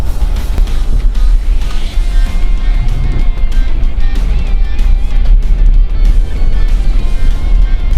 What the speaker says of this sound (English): right now I am driving on the road that is known for having some pretty decent sized potholes